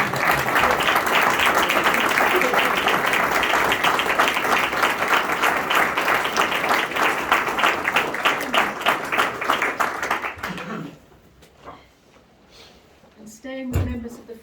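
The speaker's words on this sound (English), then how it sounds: "I think a round of applause." Sustained applause from an audience at a celebration of life memorial service, dense steady clapping that fades out after about ten seconds, leaving a quiet room with a few faint knocks.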